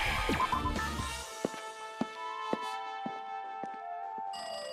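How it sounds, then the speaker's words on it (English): A telephone rings in the video game Danganronpa 2: Goodbye Despair, a steady electronic ring with evenly spaced pulses, heard alone and fairly clear after a short burst of other game sound. "Oh, I hear it now. It's a phone."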